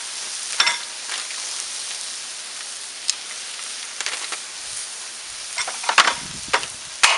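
Shrimp and stir-fry noodles sizzle on a hot Blackstone griddle in a steady crackling hiss, with a few sharper pops and scraping clicks from a spatula near the end.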